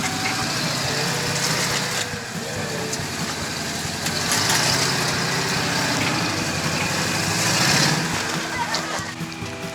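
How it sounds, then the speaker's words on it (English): A Jeep TJ on 35-inch tires crawls up boulders on the Rubicon Ridge off-road trail, its engine holding a steady low rumble with a few surges in revs, close by and without voices. "now Dan wants to take his Jeep up it too"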